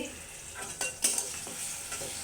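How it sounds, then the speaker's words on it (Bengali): Onions and tomatoes frying in oil in a pan for noodles, with a steady low sizzle and a few close scrapes and clinks of a spoon stirring, no voices. "তো নুডলসের জন্য আমি এখানে পেঁয়াজ তারপরে টমেটো ভেজে নিচ্ছি।"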